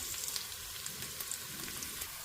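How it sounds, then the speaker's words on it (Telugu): Taro (colocasia) pieces frying in a pan, a steady soft sizzle with faint crackles and pops all the way through, at low volume. "ఇది మనం ఫ్రై చేసుకుందాం హడావుడు ఏం లేదు నిదానంగా ఫ్రై చేసుకుందాం"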